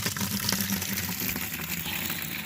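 Water runs steadily from an outdoor farm tap, a continuous close splashing gush with no pauses.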